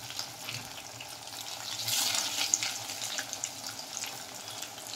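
Jackfruit (enchor) cutlets fry in hot oil with a soft, steady sizzle that swells louder near the middle and then settles back to a quieter bubbling, with no voices.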